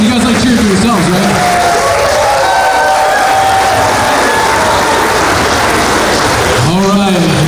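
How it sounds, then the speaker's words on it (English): A wrestling event crowd cheers and claps in a loud, continuous roar filling the venue, while an announcer's amplified voice speaks over it at the start and end. "Make some noise for yourselves."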